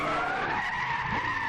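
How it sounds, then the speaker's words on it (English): A Holden car drifting in Gran Turismo 6, tires skidding with a sustained high squeal over a steady engine drone, loud and continuous for the whole stretch, with no voices. "Try and get some drifting, because that's what this car was designed for."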